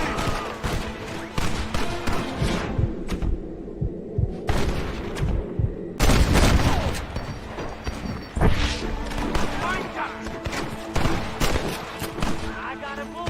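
Shootout in Red Dead Redemption with repeated gunshots cracking amid dense battle noise, loud and close, some stretches busier than others, while characters shout over the fighting.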